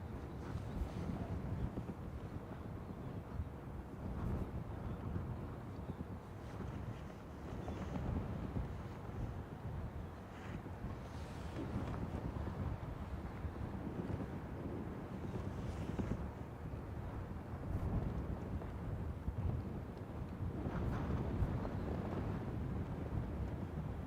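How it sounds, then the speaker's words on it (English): Gusty wind buffets the microphone outdoors at Dublin Airport, a low, rough, continuous rumble that rises and falls in uneven surges throughout, fairly faint overall with no voices. "Don't know whether I've said this or not, but it's windy today."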